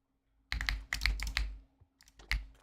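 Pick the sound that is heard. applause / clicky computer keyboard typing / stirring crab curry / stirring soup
clicky computer keyboard typing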